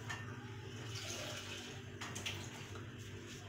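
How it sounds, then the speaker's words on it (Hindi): Water pours into a pan of cooking keema masala in a Pakistani kitchen, a steady continuous splashing rush at moderate level, lasting a few seconds with no talking. "अब मैं इसमें ये पानी शामिल कर देती हूँ"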